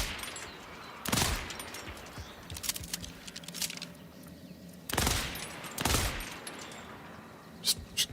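Heavy gunfire from the video game Borderlands 4: dense, continuous bursts of automatic shooting, with two big loud blasts and rapid shots rattling under them, close and loud throughout.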